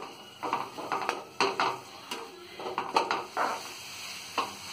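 A spatula scrapes and clatters against a pan while chopped tomatoes are stirred for hotel-style kothu porotta. Uneven bursts of scraping and knocks sit over a faint, close sizzle, with no talking.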